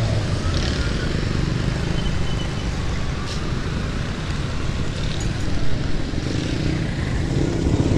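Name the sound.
heavy street traffic in Karachi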